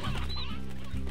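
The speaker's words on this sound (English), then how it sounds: "we've got a bit too many chickens floating around" Chickens cluck in the game Slime Rancher, a couple of short close clucks in quick succession, clear and unaccompanied by talk.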